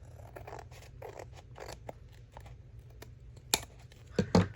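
Paper trimmed with scissors for a journal page: a few quiet snips and crisp blade closures, the sharpest ones clustered near the end, close up against a soft background hum.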